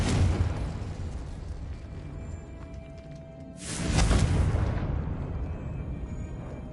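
Confringo spell blast in the Hogwarts Legacy video game, a sustained rumbling burst that swells into a loud bright explosive whoosh midway, then fades into a low rumble, no talk.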